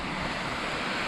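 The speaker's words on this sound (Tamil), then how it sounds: "இதோ இங்கே இது அருவி மேலே வந்திருக்கோம்ல இப்போ" A waterfall heard from the top of the falls gives off a loud, steady, close-up roar of rushing water with a windy rumble, and no voices.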